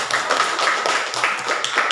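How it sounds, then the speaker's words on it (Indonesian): Short burst of applause from a classroom audience for a student group: a light patter of several people clapping, fairly close and even, lasting about two seconds. "Kasih aplaus untuk kelompok 4"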